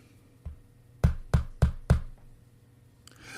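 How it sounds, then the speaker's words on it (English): Five sharp, brittle knocks tap against window glass at a front window, one single tap followed by four evenly spaced raps, close and fairly loud in a quiet room. "A brittle sound like a skeletal finger clicking against the glass."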